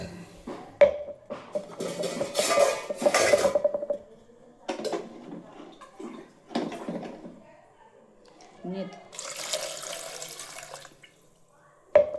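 Lentils being rinsed under a running kitchen tap, with bursts of splashing and gushing water, dripping and clinking of a vessel between pauses, while a person talks over parts of it.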